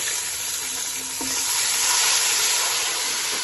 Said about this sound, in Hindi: अब इसमें थोड़ा सा वाटर ऐड कर दें।